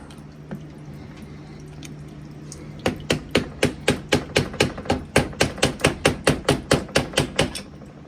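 A Mustang T5 bearing retainer is tapped into place with a hammer: after a quiet stretch comes a rapid, regular series of about twenty close, sharp metallic taps.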